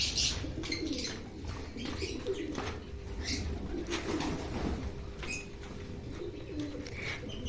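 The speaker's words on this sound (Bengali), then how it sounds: "এখনো কিন্তু অনেক পায়রাই রয়েছে ওখানে," Shiraz pigeons in a loft, soft low cooing mixed with brief wing flaps and rustling, a steady busy murmur of birds nearby.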